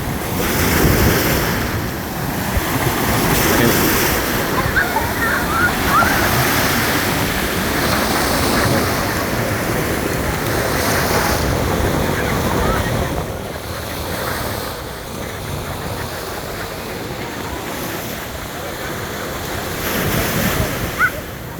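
Sea waves wash continuously onto a crowded beach at Marsa Matruh, Egypt, a steady broadband roar with surging swells, mixed with wind buffeting the microphone and no clear speech.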